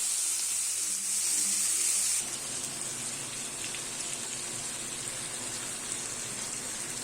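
Breaded chicken cutlets sizzling on a grill in melted ghee: a steady hissing crackle, near and fairly loud, starting with a brighter burst as the pieces go down and then settling into an even sizzle.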